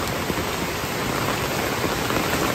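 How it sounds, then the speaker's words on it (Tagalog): Dense, steady hiss of heavy typhoon rain pouring down over a flooded area in the Philippines, loud and continuous with no pauses. "Grabe, lalo pong lumakas ang ulan."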